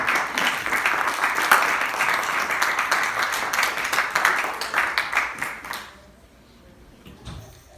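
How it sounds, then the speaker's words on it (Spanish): A church congregation claps loudly together during a service for about six seconds, a thick continuous roll of hands that then cuts off, leaving a quiet room. "Denle ese aplauso fuerte al Señor"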